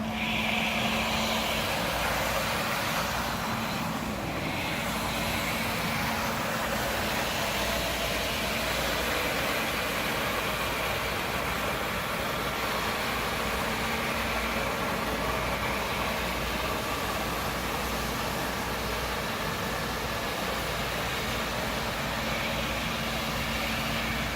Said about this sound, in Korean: 흡입 모터만 작동시켜 흡입만 하실 수가 있습니다